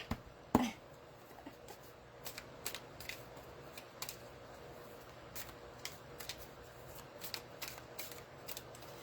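Tarot cards are shuffled and riffled nearby in quick, soft bursts of papery flicks, with one sharper snap early on and quiet pauses between.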